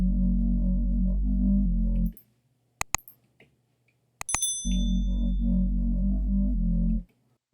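A harmonic sub bass synth for drum and bass, run through a chorus effect, plays a deep sustained note. The note is heard twice, once with the chorus on and once with it off, separated by a gap with a few sharp mouse clicks.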